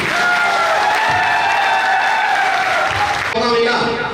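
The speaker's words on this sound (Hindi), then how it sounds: "तो मैं चाहूंगा अब तक की सबसे शानदार तालियां" An audience at a company gathering breaks into loud, continuous applause that fills the room, with a cheer or raised voice cutting through near the end.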